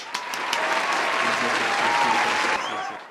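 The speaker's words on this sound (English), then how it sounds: "We should give this dad a round of applause." A round of applause from a crowd, dense and even, swelling quickly then holding steady before tapering off near the end, with faint voices underneath.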